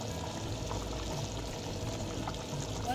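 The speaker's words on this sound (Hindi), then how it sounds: "अच्छा, अब हम इसमें एग डालेंगे।" Beaten egg is poured slowly into a pot of hot soup, giving a soft, steady liquid pour with faint bubbling of the simmering broth beneath, close and even throughout without speech.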